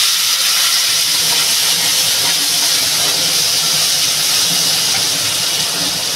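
Mango pieces poured into hot oil with popped mustard seeds, for a coconut-milk mango tok, set off a loud, steady hissing sizzle that holds evenly without pause or talk.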